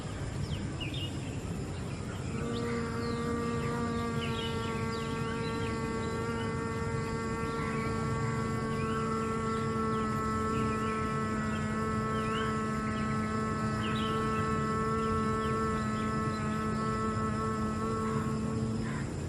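A person exhales through the nose with ears closed during Bhramari pranayam, making a steady humming-bee drone. It is a voice imitating a bee, held as one long, even, close hum over a faint background hiss.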